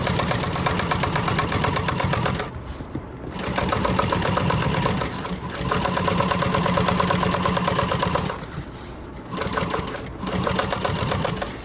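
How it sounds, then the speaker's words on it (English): A sewing machine runs in steady bursts, top stitching the folded edge where vinyl joins the exterior fabric of a tote bag, its rapid needle rhythm pausing briefly a few times before starting again. "we're going to top stitch that folded edge of where we attached our vinyl to our exterior"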